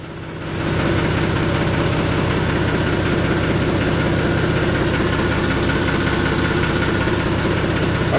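A rain-soaked tractor engine catches after a long crank and settles into a loud, steady diesel idle with a rough, knocking rumble that stays constant.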